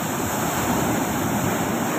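Large ocean waves churn in a constant loud rush, a dense unbroken roar of surf mixed with wind noise on the microphone.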